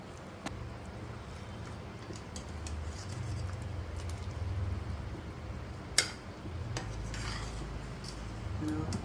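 A spoon scrapes and rubs through a pot of mutton and radish curry, soft repeated stirring with light metallic clinks and one sharper knock against the side, close and quiet.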